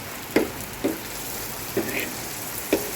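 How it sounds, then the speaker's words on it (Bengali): Eggs fry in a pan with a continuous soft sizzle, and a handful of light spatula taps land at irregular intervals close by. "আমার ডিম ভাজা প্রায় হয়ে যাচ্ছে"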